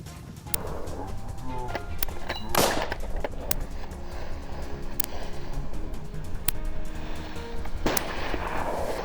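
Gunfire during a saltwater crocodile hunt in northern Australia, with a few sharp broadband shots cracking out over a steady noisy outdoor background, the loudest around the middle and near the end.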